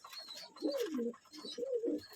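Pink satin pigeons in a breeding loft give two soft, low, rolling coos in succession, close by, with faint chirps in a quiet background.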